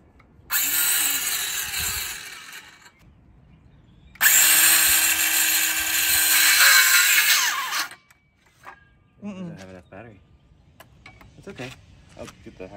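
Cordless power drill boring into wood for a garden bed support outdoors in a yard, two sustained bursts of several seconds each with a pause between, fairly loud and close, followed by quieter handling noises and brief talk.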